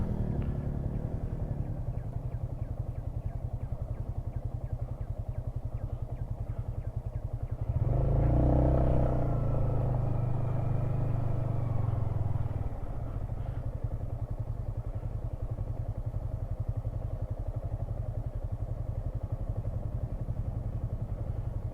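A motorcycle engine drones steadily throughout, with a louder rumbling surge partway through as it passes or revs nearby, riding on steep, dangerous slopes on the route to Tindu.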